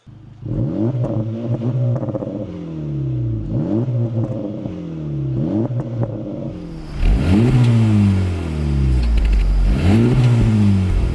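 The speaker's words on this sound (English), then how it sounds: "This also has a freer flowing exhaust that sounds better than the Type-R." An Acura Integra Type-S engine revs repeatedly through its freer-flowing exhaust, loud, close rising and falling sweeps in a steady rhythm that turn louder and rougher midway through.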